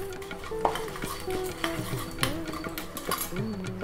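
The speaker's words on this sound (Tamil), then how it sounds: "எண்ணெய் விட்டுருக்கேன், கொஞ்சம் பெருங்காயம், காரத்துக்கு வரமிளகா, அப்புறம் உளுத்தம்பருப்பு" Urad dal roasting in hot oil with asafoetida and dried red chilli, stirred with a spoon in a pan: steady scraping and light clinks over a soft, continuous frying hiss.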